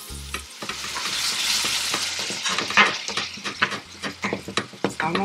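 Pre-crumbled ground meat for old-school spaghetti sizzles loudly in a pan while a utensil stirs and scrapes through it in repeated, uneven strokes close up.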